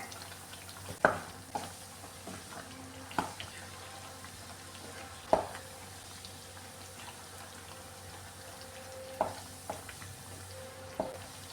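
Occasional scraping clicks of a utensil stirring beef curry in a pan, spaced irregularly over a quiet background hiss.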